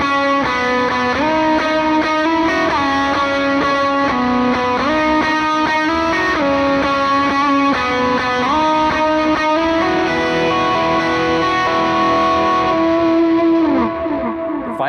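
Electric guitar rhythm part with drive and a stack of effects, distorted chords shifting in a steady pattern and washed with chorus and echo, sustained and loud throughout before easing off at the close.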